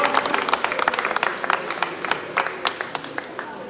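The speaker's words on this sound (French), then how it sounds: "Des applaudissements" Scattered clapping from an audience at a junior cycling tour prize-giving in Martinique, moderately loud at first and then thinning into sparse individual claps.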